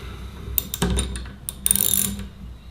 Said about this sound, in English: Then I can just cinch that up with a 13mm socket.